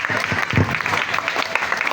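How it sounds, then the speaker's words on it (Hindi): Applause for the winners of a school quiz, a brief burst of many hands clapping together at close range, fairly loud and uneven, with a few voices in the crowd underneath. "शाबाश, तालियां बजाएं।"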